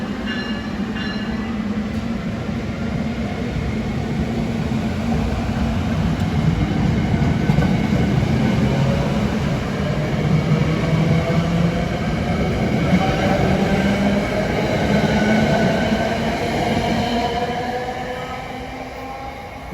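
A SEPTA push-pull commuter train pulls out of Tacony Station in Philadelphia, its loud rumble and wheel noise rolling steadily and close before easing off at the end.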